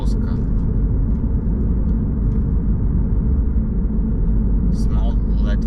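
A car drives along a road through Bauska, a small Latvian city, its cabin filled with a steady, loud low rumble and road noise that runs unbroken throughout.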